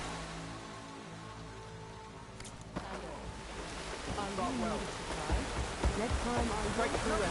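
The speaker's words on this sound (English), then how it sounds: "Roads were heavy with this rain." Steady rain falls across an outdoor scene in the video game Horizon Forbidden West, a constant hiss that thickens slightly partway through, with voices talking over it in the second half.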